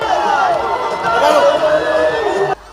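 A jubilant roadside crowd greets President Museveni's arrival in Kasanga Town Council, with loud, dense massed voices and sustained high cries rising over each other before cutting off abruptly near the end.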